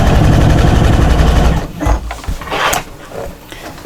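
Domestic sewing machine running a fast, steady motor whir as it stitches the seam of a fabric shopper bag, loud and close, then stopping partway and leaving quieter handling noises.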